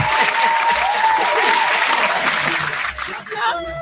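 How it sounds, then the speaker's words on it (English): Applause from an audience for a guest at a conversation event with a DJ, a steady broad clapping wash filling the room for nearly four seconds, with faint voices under it and the clapping thinning out at the very end. "I got to clap for you again."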